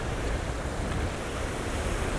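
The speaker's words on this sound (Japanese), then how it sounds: "今いい波ですね。" Sea waves surge onto a rocky winter shore where fishing is under way, a steady, close roar of surf and wind filling the clip with no voices.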